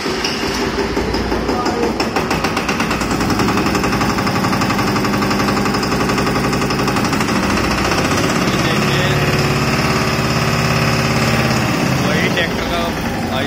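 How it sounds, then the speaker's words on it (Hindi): A small Eicher 188 tractor engine putters loudly up close as it starts, a rapid chugging knock that settles into a steady idle. "चलो एक बार आपको इसको स्टार्ट करके दिखा देते हैं हम।"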